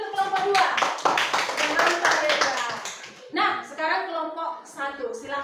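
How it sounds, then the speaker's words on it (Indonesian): A classroom of students claps for a student group, a dense burst of applause that breaks off briefly and resumes, with a teacher's voice heard alongside. "Ayo, kasih tepuk tangan dulu untuk kelompok 2."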